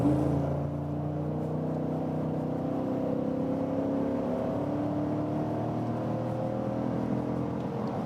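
A Cadillac Escalade in sport mode pulls hard under acceleration, its engine a steady, loud drone with a gradually climbing pitch over a constant rush of road and wind noise, with no talking.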